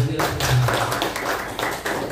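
Hands clapping in an entrepreneurship training class run by a youth organization in Banten, a short burst of claps from a room of participants, fairly close with a steady clustered rhythm.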